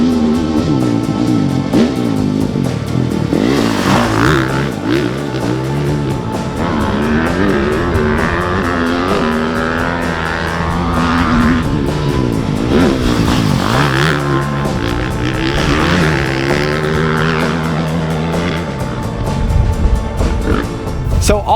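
A 2024 Beta 450 RX motocross bike is ridden on a dirt track, its engine roaring and rising and falling through repeated bursts of revs over about twenty seconds, loud and close.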